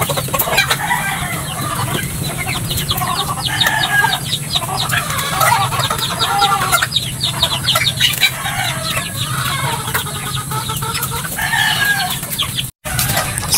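A flock of backyard chickens clucks busily at feeding time, with overlapping close clucks and cackles and occasional rooster crowing, loud and continuous throughout.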